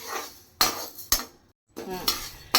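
Lentils being dry-roasted in a pan for Andhra lentil powder, stirred with a metal spoon that gives a few sharp scraping clanks against the pan, up close, with a brief pause between strokes.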